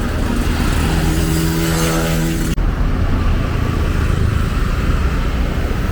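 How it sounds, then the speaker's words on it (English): Busy street traffic on Front Street in Hamilton, a steady loud wash of passing cars and engines heard nearby without a break, with no voices. "Lots of traffic still coming and going"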